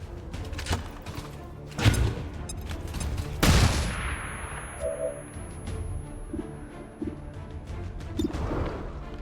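A grenade lobbed and detonating in a turn-based tactical shooter, sounding as a couple of sharp, heavy blasts with debris and rumble trailing off amid scattered smaller impacts and ambient game noise.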